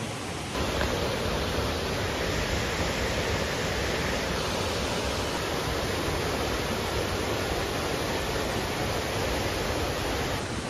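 Waterfall on a motorcycle trip through Tarlac and Nueva Vizcaya, a steady broadband roar of falling water that stays loud and even throughout with no voices.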